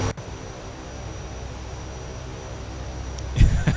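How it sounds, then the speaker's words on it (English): A twin-turboprop King Air in the X-Plane 11 flight simulator runs with a steady, loud propeller drone and high engine whine, a brief click near the start and a heavier rumbling swell at the end, no voices. "Holy crap, that plane is loud."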